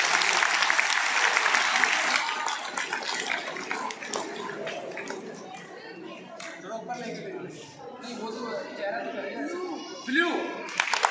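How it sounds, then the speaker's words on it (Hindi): Children at a school seminar break into loud, dense clapping that gradually thins into scattered claps, with children's chatter and voices mixed in throughout. "तो ताली तो बजा दो बच्चा।"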